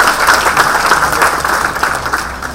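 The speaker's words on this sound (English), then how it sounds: "Give a big round of applause" An audience at a self-presentation showcase event breaks into a big round of applause, loud and close, with dense overlapping claps that hold steady before easing slightly at the end.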